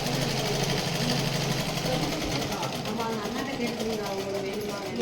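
A sewing machine stitching a chudi joint on a churidar garment, running in a steady, continuous mechanical buzz while a person talks over it.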